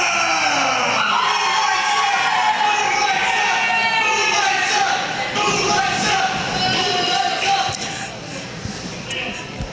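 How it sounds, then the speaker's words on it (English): Crowd at a Halloween professional wrestling event cheering and shouting in a large hall, a loud continuous roar with rising yells throughout, under nothing else. "not affected by this crowd tonight, which is firmly in the pocket of the Moonlight Sun, Mike Skyros."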